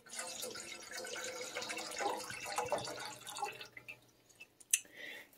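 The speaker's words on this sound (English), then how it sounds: "So we're gonna put some water in." Water trickles and splashes steadily into a small container for mixing a paint or putty for customizing a GI Joe figure, then slows to a few drips and a small clink near the end.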